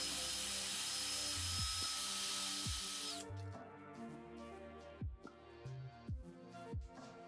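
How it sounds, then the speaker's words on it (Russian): A cordless drill fitted for cleaning a flux-core weld seam whirs loudly and steadily for about three seconds, then stops, leaving a few scattered knocks and clanks nearby. "шов нужно зачистить. Это я сделаю при помощи шуруповертов."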